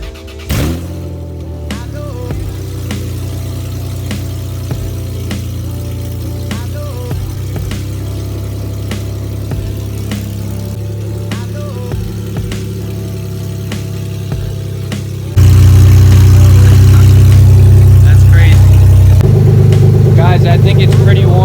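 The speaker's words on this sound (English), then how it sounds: "let's start up the car" A Lexus IS300 with its exhaust removed starts up and idles with a loud, rough, throaty rumble. Around two-thirds of the way through, the engine suddenly becomes much louder and deeper, and people talk over it.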